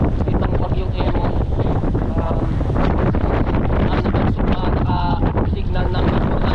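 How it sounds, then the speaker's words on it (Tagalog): Strong typhoon wind buffets the microphone in a continuous loud roar with gusty rumbles and crackles, and a voice is partly heard through it. "sobrang lakas ng hangin ngayon"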